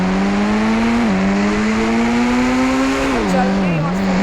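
A car engine in the mobile game Indian Bike Driving 3D revs loudly and steadily, its pitch dipping briefly with gear changes, a sustained droning whine with no speech.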